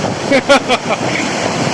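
Lake waves wash and splash around feet on a flooded beach at Bujumbura, Burundi, where a coconut tree stands submerged; a few close, bursting splashes rise over a steady wind-blown surf rush.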